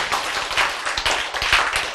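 Sharp hand claps from an audience at a Korean lecture on genes, a steady run of dense claps close by filling the whole moment without a pause.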